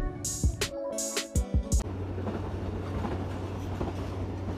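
The 13 Up Awam Express, a passenger express train, runs on rails across the Jhelum bridge in monsoon rain, giving a steady loud rumble and rush that follows a few brief sharp knocks at the start.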